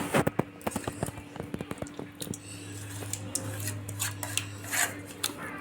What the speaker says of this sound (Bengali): এবার মাছগুলোকে মশলাটা দিয়ে মাখিয়ে নেব।